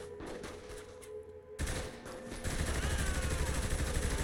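Gunfire from the video game Saints Row The Third comes as dense, continuous rapid shots that swell louder partway through into a sustained burst, with no talk over it.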